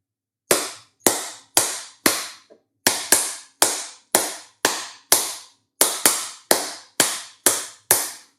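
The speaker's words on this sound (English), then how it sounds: "I was actually playing the British national anthem." Hands clap out the opening of the British national anthem, about sixteen sharp, close claps in a measured rhythm with a brief gap partway through, alone in a quiet room.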